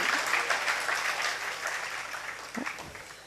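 An audience applauds during a Hindi religious discourse, a dense wash of clapping that is loudest at the start and gradually tapers off, with a few louder claps near the end.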